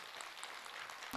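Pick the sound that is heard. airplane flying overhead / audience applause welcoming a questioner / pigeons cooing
audience applause welcoming a questioner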